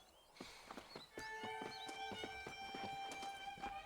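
Horse hooves clip-clop at a steady walking pace in the Red Dead Redemption video game, a series of close, distinct hoof knocks continuing throughout, with a faint whinny-like cry near the start and no talk.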